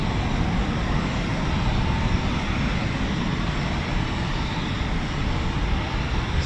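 A Eurofighter Typhoon FGR4 jet at RAF Coningsby gives off a steady, loud broadband roar that holds evenly throughout with no voices.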